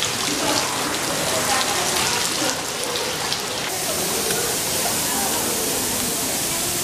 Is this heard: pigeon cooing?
no